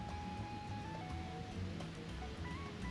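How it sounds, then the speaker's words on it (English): A small man-made waterfall in Waikiki pours in a steady, faint, continuous rush, heard at a short distance among outdoor ambience. "coming up ahead over here, there's this little man-made waterfall"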